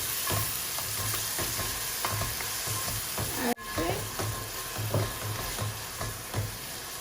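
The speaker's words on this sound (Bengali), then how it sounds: "তো এখন দেখো আমি পেঁয়াজ দিলাম" Grated onion hits hot oil for Sylheti shutki shira with fish, sizzling steadily up close while a spoon stirs with repeated scrapes; a brief clunk breaks it midway.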